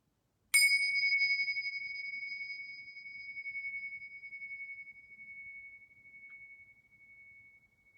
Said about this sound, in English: bring your full awareness to the sound of the bell until it dissolves into silence